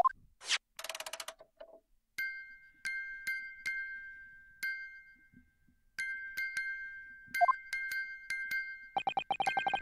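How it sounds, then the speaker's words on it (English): Music box from The Great Ace Attorney video game chiming in a run of sparse, clear metallic notes with sustained ringing tones, mixed with short game beeps and blips, moderately loud and without talk. "It's the defence's belief that the sound emanating from this music box is... yeah, not supposed to be music."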